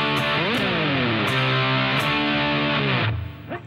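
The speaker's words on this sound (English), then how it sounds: "This is where the distorted guitar comes in." Heavily distorted electric guitar power chords ring out loud and sustained, shifting between a few chords before cutting off near the end.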